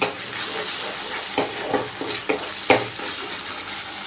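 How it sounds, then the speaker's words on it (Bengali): Sour yogurt is stirred into a masala frying in a pan, with a steady sizzle beneath and several soft scraping spoon strokes at close range. "এবার টক দইটাও ভালো করে মশলার সাথে মিশিয়ে নেব"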